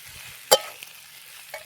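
Samosa filling mixture stirred in a pan, with one sharp scrape or clink of the spoon near the middle and a few softer taps after it, over a quiet background.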